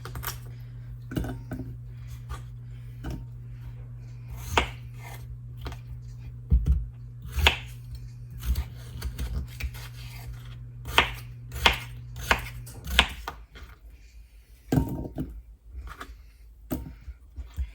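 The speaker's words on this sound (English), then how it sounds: "just do a rough chop" A knife roughly chops food on a cutting board in irregular sharp thuds, sometimes quick clusters and sometimes spaced apart, over a steady low hum that drops away near the end.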